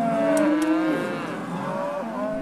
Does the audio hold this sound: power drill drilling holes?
no